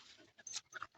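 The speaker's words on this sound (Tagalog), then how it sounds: "Ito yung mga aso namin." Hunting dogs on a trail outing, heard as brief close yelps or whimpers and panting in short bursts, with no talk.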